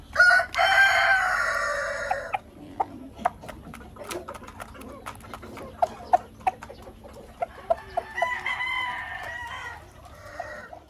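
Chickens and a rooster on a farm with breeding pens: loud nearby crowing at the start and again near the end, with scattered clucks and short calls in between.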